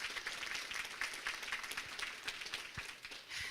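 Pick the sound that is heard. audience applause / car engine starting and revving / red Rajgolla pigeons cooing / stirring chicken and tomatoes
audience applause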